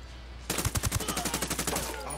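Automatic gunfire from a turret fight in the video game Ghost Recon Wildlands, a rapid, steady burst of shots that starts abruptly and keeps a fast rhythm for over a second and a half, loud and close.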